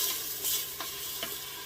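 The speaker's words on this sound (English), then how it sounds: "Stir this up." Garlic chicken sizzling in a hot pan with a steady fry hiss, a spoon scraping through it in a few short stirs, close and alone.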